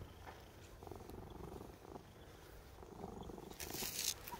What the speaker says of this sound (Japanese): ゴロゴロいい状態。